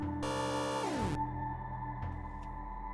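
A synthesized retro video game sound effect for a teleport or pterodactyl, played alone. A buzzy tone rises, then sweeps downward and settles into a steady low hum, with a faint blip near the end.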